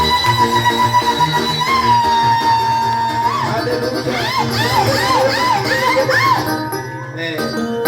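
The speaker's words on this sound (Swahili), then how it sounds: "Kanisa tumshangilie Bwana Yesu kwa shangwe." A church congregation at an ordination service cheers loudly and close, with rising ululating trills over a busy crowd din and sustained tones.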